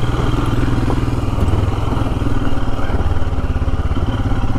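Royal Enfield Himalayan motorcycle ridden along an off-road Cornish trail, its engine thumping loudly and steadily with rattles and clatter from the rough ground.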